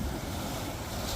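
Sea waves rolling onto the shore at Old Colwyn, a loud continuous wash of surf mixed with heavy wind buffeting close by.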